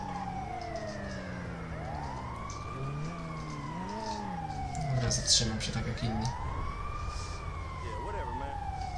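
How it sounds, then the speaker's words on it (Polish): An ambulance siren in the video game GTA 5 wails in repeated rising and falling sweeps, moderately close, while someone talks over it. "karetka znowu"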